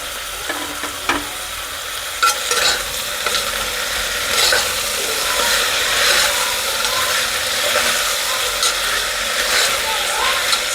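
Tomatoes fry in a pan, a moderate sizzle broken by scraping and clattering stirring strokes, with intermittent sharp knocks over a steady background hiss.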